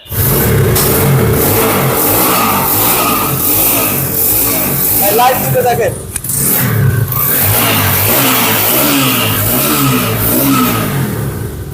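Rapido Road Master sports motorcycle with dual-channel ABS and disc brakes revving its engine close by, rising and falling through repeated throttle blips across the whole stretch while someone talks over it.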